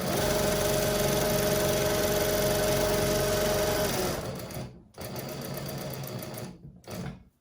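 A sewing machine stitches a handbag lining in a loud, steady run, then stops and restarts in shorter bursts with brief pauses between them, close up and alone.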